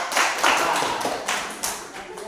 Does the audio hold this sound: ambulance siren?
no